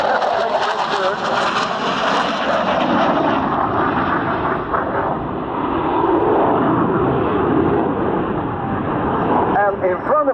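An AMX Ghibli jet flies aileron rolls and other aerobatics at the RIAT 2014 airshow, a loud, steady jet roar whose pitch slowly shifts as it passes, with a commentator talking over it.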